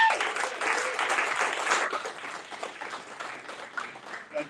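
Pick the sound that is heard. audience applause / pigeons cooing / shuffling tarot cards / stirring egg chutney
audience applause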